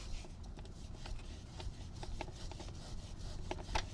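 A sock rubs excess lube off a motorcycle chain, making soft, irregular scrubbing and rubbing strokes, close and fairly quiet over a low rumbling background, with no talking.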